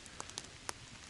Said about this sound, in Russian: Пока разводил, дождик начался.